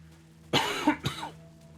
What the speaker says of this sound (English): I got a cough.